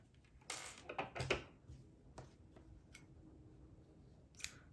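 Scissors snip crochet yarn in a few quick close cuts, clustered near the start, with one more snip a few seconds later.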